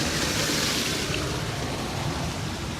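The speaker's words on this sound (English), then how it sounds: "There's that waterfall." A waterfall pours steadily outdoors, a constant broad rushing wash that stays fairly loud and unbroken with no voices over it.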